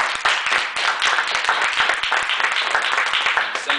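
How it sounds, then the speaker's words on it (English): A dense round of audience clapping carries on steadily, many hands at close range forming a continuous crackle without pauses. "Can I get a round of applause for that?"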